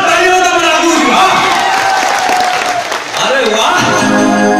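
An audience at a jatra folk theatre performance breaks into loud, sustained applause, a dense wash of clapping and crowd noise that fills the whole moment.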